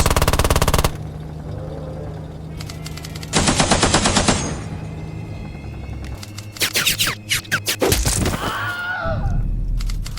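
Heavy machine gun fire for a World War Two tabletop battle scene rips out in loud sustained bursts, broken by sharp single cracks, shorter rapid rattles and rumbling impacts.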